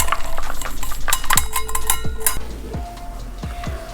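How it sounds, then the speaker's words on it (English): Stiff chocolate chip cookie batter with small pieces of chocolate candy is worked in a bowl by hand: close, rhythmic heavy scraping strokes with occasional clinks of the utensil against the bowl, and no talking. "See how hard it's getting to mix now?"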